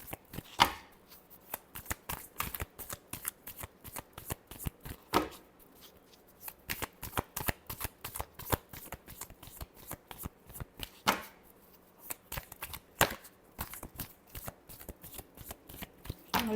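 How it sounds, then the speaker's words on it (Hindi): Tarot cards shuffled by hand in a long run of quick, crisp riffling bursts, close and fairly quiet, with brief pauses between rounds and no talking. "Last shuffle."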